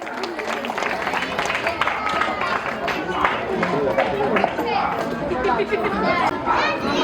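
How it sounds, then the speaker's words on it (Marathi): Children at a Shivaji Jayanti school celebration clap in a dense, continuous wash of applause, mixed with loud crowd chatter and children's voices throughout. "टाळ्या."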